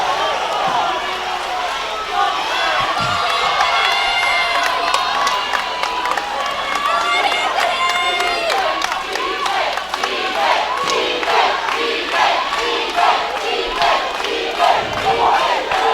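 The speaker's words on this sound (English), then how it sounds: "They're chanting Ethan, trying to get his teammate pumped up." Loud high school wrestling crowd cheering and chanting a wrestler's name, a dense sustained roar of many voices with rhythmic chant pulses throughout the match.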